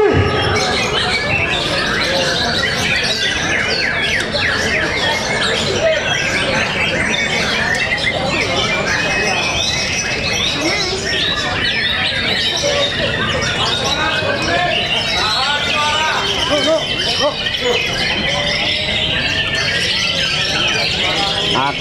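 White-rumped shamas sing at a crowded songbird contest, with dense overlapping squawks, chirps and whistles over a continuous babble of voices from the spectators.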